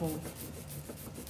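An ink roller passing over an engraving plate during printmaking, giving a brief, soft, continuous rubbing sound heard close up and alone.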